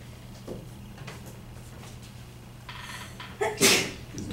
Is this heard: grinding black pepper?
no